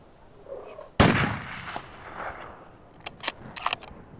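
A single sharp rifle shot at a fallow buck on a hunt, sudden and loud, its report rolling away across open country before faint clicks and knocks follow.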